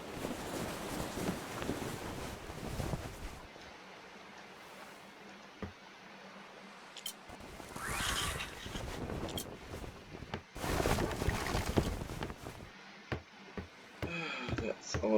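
Sails of a sailing ship flapping and rustling in the wind in the ATLAS video game, irregular soft whooshes and flutters coming and going, with someone talking over parts of it.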